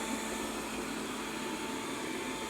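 A Robit V7S Pro robot vacuum cleaner runs nearby, giving off a steady, even whirring hiss with a faint motor hum underneath, with no voices.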